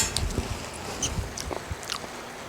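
Someone tastes and chews food coated in a finished butter sauce, giving a few soft, close biting and chewing sounds over about two seconds, with no talking.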